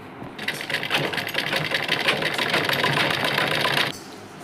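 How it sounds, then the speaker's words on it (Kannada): A sewing machine stitches a lacha blouse in a fast, even mechanical chatter. It runs loud and close for about three and a half seconds, then stops abruptly. "ಇದಕ್ಕೆ ಇನ್ನೊಂದು ಹೊಲಿಗೆ ಹಾಕೋತೇನೆ ರೀ"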